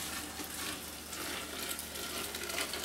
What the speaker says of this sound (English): This is 5 quarts of boiling water I'm going to add.